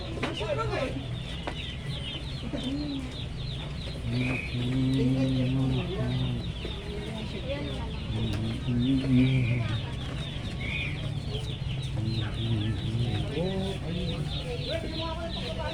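Chickens and chicks clucking and peeping at a Binangonan egg farm selling brown eggs, steady busy flock chatter close by with people talking over it throughout.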